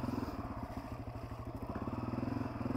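Honda CRF250F dirt bike ridden in second gear along tight woods single track, its engine putting out a steady, close, rhythmic pulsing drone with light clatter throughout.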